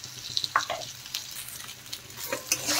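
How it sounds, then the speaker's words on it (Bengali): Potato and eggplant being sautéed with salt, turmeric and chilli powder, a spoon scraping and stirring through the pan with a soft sizzle underneath, close and fairly quiet, no voices. "এখন ভালোভাবে আরেকটু কষিয়ে নেব"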